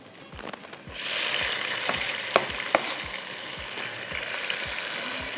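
Onions and fenugreek fry in a pan as tomatoes go in. A steady, loud sizzle swells up about a second in and carries on, broken by sharp clicks and scrapes of stirring.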